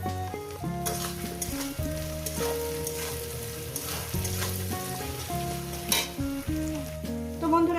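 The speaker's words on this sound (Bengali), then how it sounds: "কাঁচা লঙ্কাটা দিয়ে একটু ভেজে নেব" Onions and green chillies fry in a pan for a Bengali chicken-giblet curry, giving a steady sizzle with occasional stirring scrapes under prominent background music, with no voices.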